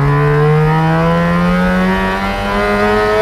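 A Datsun 620 pickup engine built to rev toward 11,000 rpm screams loudly at high rpm, its pitch climbing steadily and then dipping slightly as it holds near the top.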